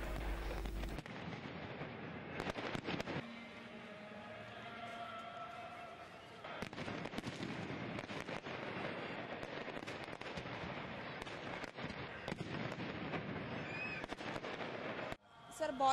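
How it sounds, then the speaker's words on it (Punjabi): Fireworks at a gurdwara during a Guru Amar Das Ji Prakash Purab celebration, heard as repeated loud bangs and crackling bursts over a steady crowd din, with a final sharp blast at the end. "ਗੁਰਦੁਆਰਾ ਸਾਹਿਬ ਵਿਖੇ ਅਲੌਕਿਕ ਆਤਿਸ਼ਬਾਜ਼ੀ ਕਰਵਾਈ ਗਈ"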